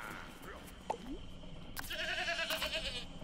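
A goat bleats in the video game Plants vs Zombies Garden Warfare 2, a drawn-out wavering cry rising over busy game sounds and faint background chatter.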